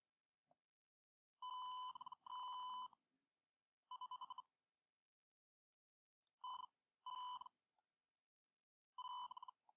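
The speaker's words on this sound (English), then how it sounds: "hopefully you could hear that buzzer going off" An electronic buzzer sounds in short bursts of steady high-pitched tone, several beeps with pauses between groups, clear and alone.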